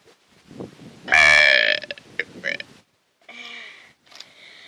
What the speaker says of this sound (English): So yeah, burping video.